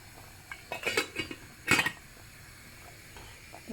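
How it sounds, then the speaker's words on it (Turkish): Two quick metallic clanks, like a pot lid being set down and settled, with a few softer clinks around them in a quiet kitchen. "kapağını kapatalım"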